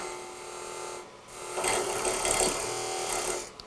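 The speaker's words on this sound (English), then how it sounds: "So I'll make a parting cut with my parting tool just to mark that" A parting tool cuts into a spinning Amboyna burl on a wood lathe, making a steady scraping whir that swells after a short pause and holds for about two seconds before easing off.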